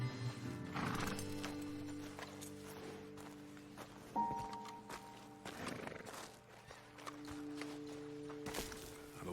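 Horses neigh and whinny in the Red Dead Redemption II video game, long tonal calls rising over the dismount, with hooves clopping and shuffling nearby throughout.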